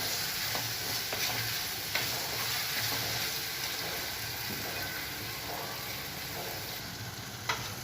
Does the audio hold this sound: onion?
yes